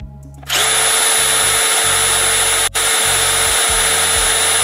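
A Bosch GDX 18V-200 impact wrench on a ProCore 4Ah battery starts up and runs at a loud, steady, high-pitched whine, close to the listener, with one very brief dropout partway through.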